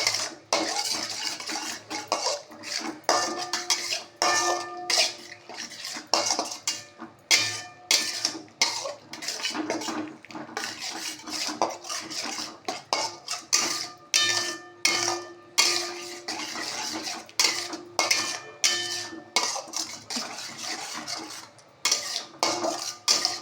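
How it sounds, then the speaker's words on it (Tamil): A spatula clinks and scrapes against a pan as egg is scrambled with masala for kothu chapathi, giving close, busy, irregular metallic taps and scraping that continue throughout with no talking. "எக்கை உடச்சி ஊற்றுறேன். ஊற்றி அதையுமே நல்லா ஸ்க்ராம்பிள் பண்ணிவிட்டு"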